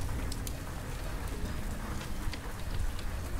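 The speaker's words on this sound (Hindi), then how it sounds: "आज बहुत ज्यादा तेज बारिश हो रही है" Heavy rain pours down steadily outdoors in a continuous dense hiss with scattered sharper drop impacts, loud and unbroken throughout, with no voices.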